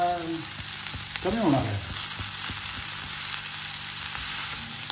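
Red amaranth leaves with onion sauté in a hot wok (kadhai), a continuous loud sizzle with stirring scrapes, while someone speaks briefly.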